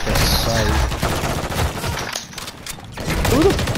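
Rapid bursts of automatic gunfire from the video game Call of Duty: Modern Warfare 3, loud and dense, with mechanical clatter and a voice talking over it.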